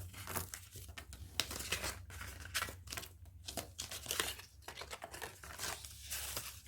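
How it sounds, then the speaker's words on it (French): Paper crinkles and crackles in close, quiet bursts as folds are creased into an advent calendar, with soft rustling between the sharper crumples. "Donc, je marque les plis."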